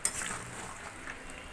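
Mutton is stirred in a hot pan while it fries down for a long time into a deep red, tender curry, giving a steady close sizzle with soft scraping strokes throughout.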